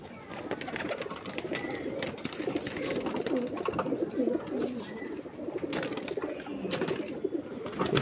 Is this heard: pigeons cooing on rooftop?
yes